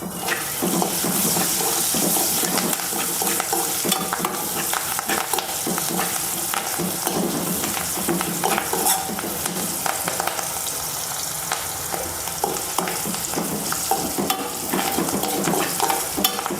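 Sliced onion, green chillies, ginger, garlic, dried red chillies and curry leaves fry in a pan, giving a close, continuous sizzle with scattered stirring scrapes and taps throughout.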